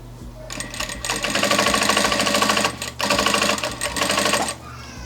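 A Vevor industrial sewing machine stitches baby bloomers in steady, loud bursts of rapid mechanical clatter, pausing briefly between runs, with no talking.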